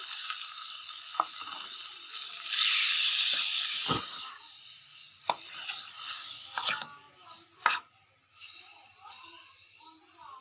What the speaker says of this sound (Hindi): ऑयल ऐड करने के बाद ये सारा मैरिनेटेड चिकन हमने इसमें शामिल कर दिया